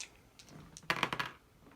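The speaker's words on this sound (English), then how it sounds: "So I'm going to roll 2 dice." Two dice rolled during a game of Street Masters, a quick run of sharp clattering taps as they tumble and settle on a table, fairly close and alone without talk.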